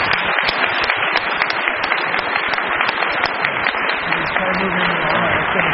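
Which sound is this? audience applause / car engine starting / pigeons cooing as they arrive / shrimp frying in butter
audience applause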